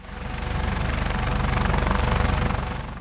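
Helicopter in flight over the Loire Valley châteaux, a loud, steady rotor thump with continuous engine whine, close and constant throughout with no talk.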